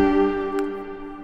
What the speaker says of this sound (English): more smooth reverb.